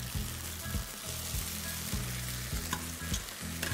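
Farfalle pasta with broccoli and salmon simmering and frying in sauce in a pan, with continuous sizzling and bubbling broken by repeated stirring scrapes, close and fairly quiet with no voices.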